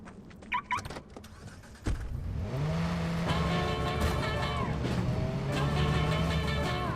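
A car in the video game Watch Dogs starts up and drives off, after a few clunks and a door sound; the engine then hums steadily and loudly, rising and settling in pitch as it accelerates.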